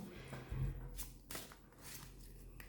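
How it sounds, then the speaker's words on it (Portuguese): Tarot cards shuffled by hand at close range, a run of soft papery riffling bursts with brief taps between them, heard alone with no talking. "Eu já tinha embaralhado um pouco antes, mas eu vou embaralhar mais um pouco."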